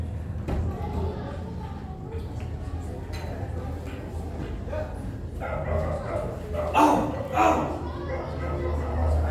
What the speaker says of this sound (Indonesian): Tanpa sadar, ada seekor anjing yang menggigit tangan Hanafi.